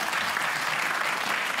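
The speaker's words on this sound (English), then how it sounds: "round of applause for" A studio audience at a televised panel discussion applauds, a loud, dense and steady wash of clapping from many hands with no voices over it.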